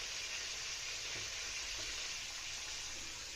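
Tomatoes and green chillies sizzle over low heat in a Peshawari charsi chicken karahi, a steady, even frying hiss throughout with faint stirring underneath and no voices.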